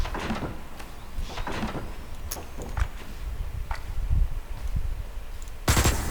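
Gunfire in the video game Osiris: New Dawn: scattered sharp shots and bursts amid a busy ambient background, with a louder close burst near the end.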